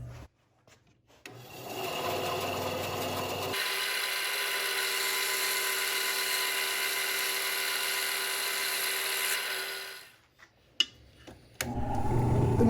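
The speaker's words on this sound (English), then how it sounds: "the first thing we need to do is cut this to the right size" A steady, high-pitched whine of a power saw cutting an acrylic blank to size for several seconds, starting and stopping abruptly, loud and close.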